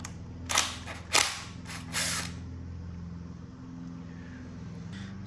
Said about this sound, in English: we need to remove this bolt here to get access to that.